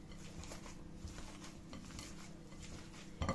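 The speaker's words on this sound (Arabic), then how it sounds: "هنبدأ نهرس الأول البطاطس" Potatoes with spices mashed in a pot, quiet scraping and clinking of a utensil against the pot, steady and close, ending in a louder knock.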